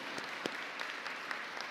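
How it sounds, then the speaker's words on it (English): Faint crowd applause at a provincial anti-substance abuse forum launch, a steady patter of many hands clapping at a distance, with occasional sharper individual claps. "Can we give all of them a big round hand of applause?"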